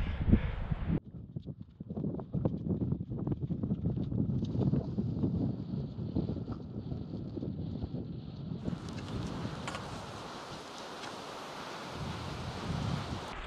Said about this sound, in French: il y a beaucoup de vent sur les plateaux là.